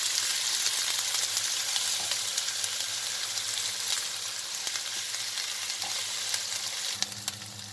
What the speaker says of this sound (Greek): Το κρεμμύδι μας έχει σοταριστεί.